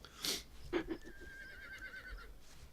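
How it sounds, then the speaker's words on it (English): Distant horse neighing faintly in a game setting, a brief whinny with a sustained high wavering call, over a quiet background with soft thuds. "Somebody beat that fucking horse."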